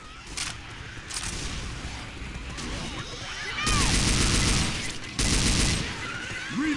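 Rapid gunfire against zombies in Left 4 Dead 2: dense, continuous shooting runs throughout and grows louder in heavy bursts near the end, with game noise and bits of talk mixed in.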